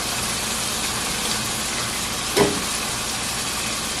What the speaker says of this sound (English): I'm going to dump the rest of this bacon grease into my chicken that's frying